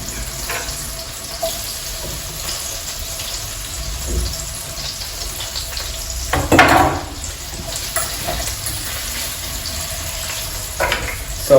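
Onion frying in a single pan for a keto one-pan meal, a steady low sizzle running throughout, with a louder burst of sizzling and clatter as it is stirred midway and again near the end.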